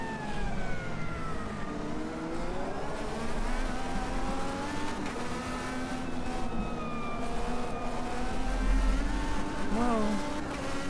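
A race car engine from an Automobilista 2 mod on a road course drones steadily and shifts pitch as it accelerates and eases off, with the engine note sustained throughout and some background noise.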